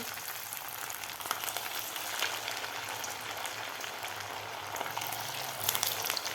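Poha vada patties deep-frying in hot oil until golden and crisp, giving a steady, dense crackling hiss that stays fairly even throughout with no voices.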